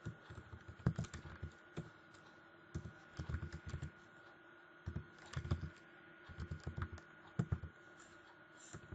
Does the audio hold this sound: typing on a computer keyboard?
yes